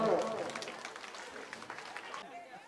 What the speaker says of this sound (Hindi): बच्चे जोरदार ताली बजाएं।